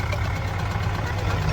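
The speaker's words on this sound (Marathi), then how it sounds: "ट्रॅक्टर लागले चालवाय." A tractor engine runs steadily on a farm with sugarcane fields, a low, even idling rumble that holds at moderate loudness throughout without clear speech.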